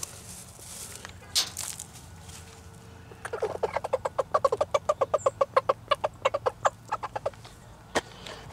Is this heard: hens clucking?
yes